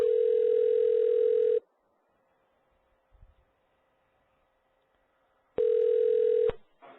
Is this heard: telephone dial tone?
yes